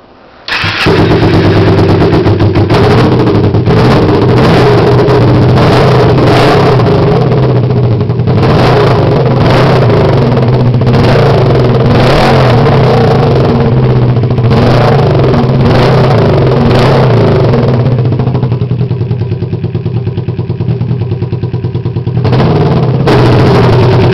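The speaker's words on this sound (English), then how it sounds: "this is a 2006 Kawasaki Ninja 250 engine. I'm going to start it up." 2006 Kawasaki Ninja 250 motorcycle engine, a bare engine kit, cranking and catching after a brief quiet moment, then running loudly and close with a steady idle broken by repeated sharp revs.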